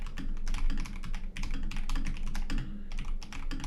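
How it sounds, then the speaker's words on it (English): Rapid typing on a computer keyboard, heard close up as a steady stream of crisp key clicks with a few short pauses. "Typing is hard."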